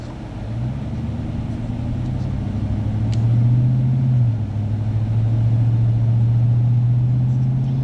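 A 2013 crew cab four-wheel-drive pickup truck, a Rocky Ridge Outfitters build, drives along with a steady low engine drone that rises slightly and holds, heard alone from inside the cab.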